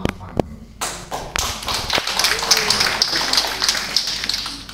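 An audience at a doctoral promotion ceremony breaks into applause, with a few sharp taps at first and then dense, sustained clapping that fills the room.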